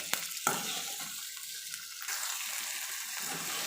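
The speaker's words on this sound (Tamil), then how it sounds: "சட்னிக்கு தேவையான அளவு உப்பு ஆட் பண்ணி வதக்கிக்கலாம்." Onions sauté with salt in a pan for chutney, a soft sizzle with stirring scrapes and a couple of sharp clinks, close and fairly quiet.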